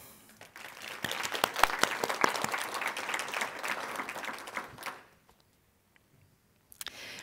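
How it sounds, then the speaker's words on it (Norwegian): An audience at the opening of a Norwegian education conference applauds with dense, scattered clapping for about five seconds. The clapping then fades to near silence before a faint sound at the end. "jeg synes vi skal gi dem en applaus allerede nå"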